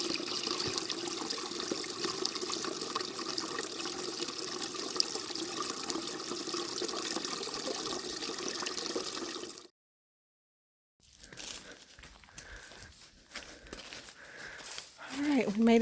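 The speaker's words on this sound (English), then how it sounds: "we've actually found some running water here" A small trail stream near a mountain shelter, its running water a continuous close hiss and trickle that cuts out briefly, then returns rougher and louder toward the end.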